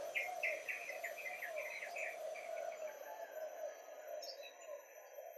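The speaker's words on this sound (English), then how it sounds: "listening to the sounds, for me, of the birds around, crickets" Birds chirping in short repeated phrases over a steady hum of crickets, faint and distant, no voices.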